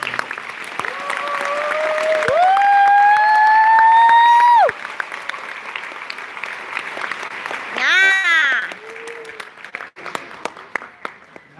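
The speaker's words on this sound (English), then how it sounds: "Will you join me in one big round of applause for all of them?" Sustained applause from a large crowd at an awards event at the Ace Hotel, with whoops and cheers rising over it, loud and steady, then tapering off into scattered clapping.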